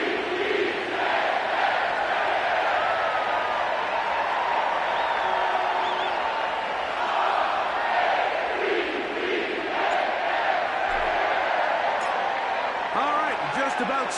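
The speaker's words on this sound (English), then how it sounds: "The crowd is definitely ready." A game-generated stadium crowd roars at Baltimore's M&T Bank Stadium in an EA Sports football game, a steady wash of cheering heard beneath ongoing commentary voices.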